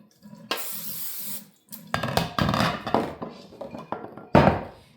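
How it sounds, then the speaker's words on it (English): A short hiss of cooking spray into a crock pot, then clinks and clatter of the pot and lid, with another brief spray burst at the end. "Now I just have my crock pot here. I'm gonna go ahead and spray it."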